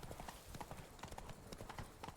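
Roach, Geralt's horse in The Witcher 3, clops along at a steady walking rhythm, the hoofbeats blending into dense game ambience and faint background sounds.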